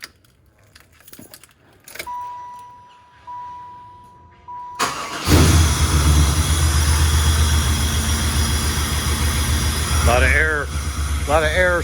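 Keys jangle and a chime sounds before a dark cherry car in an engine shop cranks and catches, then settles into a steady, loud idle with heavy low rumble, while someone talks over it.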